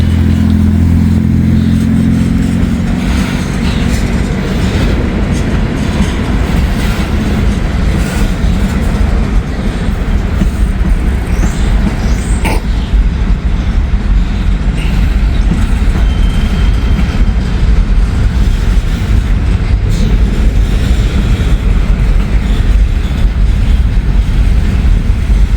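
A Norfolk Southern freight train rolls past close and loud, its heavy low rumble and steady clickety-clack of wheels on rail joints continuing throughout with no speech.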